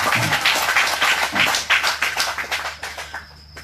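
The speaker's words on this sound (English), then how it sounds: "Round of applause for Lemeki." A crowd claps in a steady burst of applause that gradually thins and fades out toward the end, with no talking over it.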